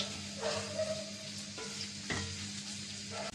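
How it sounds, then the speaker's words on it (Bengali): Chopped onion and green chilli fry in hot oil in a pan, giving a steady close sizzle broken by a few clinks and scrapes of stirring. "পেঁয়াজটা ভেজে নেব"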